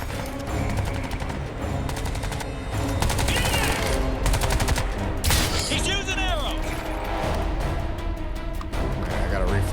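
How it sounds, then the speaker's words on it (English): Sustained bursts of automatic gunfire from enemy soldiers shooting into the air in the Crysis 3 Remastered video game, loud and dense, continuing throughout with mechanical clatter and layered game effects. "These guys are just randomly shooting up in the air."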